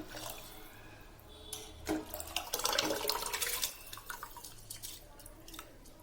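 Water poured over soaked rice for tomato rice, a two-to-one measure of water to rice, gives a brief splashing pour in the middle with scattered drips before and after, moderately near, with no talk.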